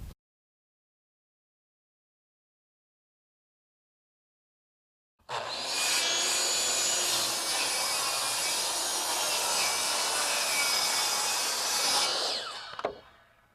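A saw rips a half-inch plywood sheet lengthwise for tiny-house wall framing, starting after about five seconds of silence and running as one loud, steady, sustained whine for roughly seven seconds before it stops abruptly.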